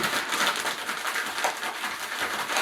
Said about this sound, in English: Zip it up and give it a good shake.